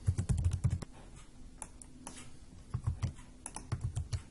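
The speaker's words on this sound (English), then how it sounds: "We did that in the algebraic solution, but I'm going to type it now." Clusters of close keystrokes on a computer keyboard come in short bursts at the start and again near the end, separated by a quieter pause with a faint steady hum.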